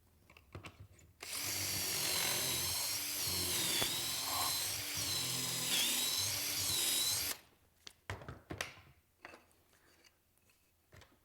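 A drill bores angled 15-degree screw pocket holes into wood in one sustained, whining run of about six seconds, with scraping and clicking handling noises before and after.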